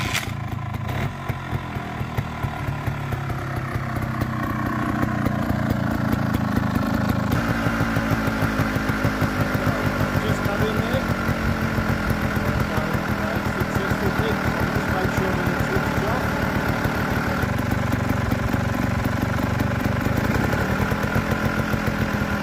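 A Beta Evo trials motorcycle engine starts and settles into a steady, loud idle that runs continuously close by, with a rapid even firing rhythm throughout.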